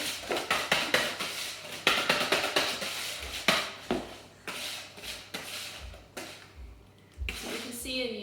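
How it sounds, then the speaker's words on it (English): A hand whisk clatters rhythmically against a bowl while brownie batter is mixed by hand, a quick series of close clinks and scrapes that pauses briefly and then resumes. "It's only 2 or 3 minutes of whisking"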